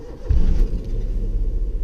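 A car engine catches and settles into a low idle after a brief cranking burst, the rumble close and steady with the gear in neutral and handbrake on.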